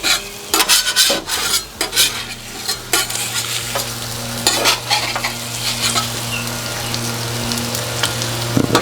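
Sausage and an egg fry on a Halo Getaway griddle with a steady loud sizzle, broken by spatula scrapes and taps as the food is pushed around, close up and with no talking.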